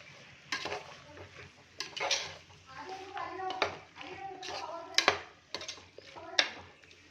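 Masala and tomato frying in a pan while being stirred: a quiet sizzle with repeated clattering scrapes of a spoon against the pan, coming in irregular bursts.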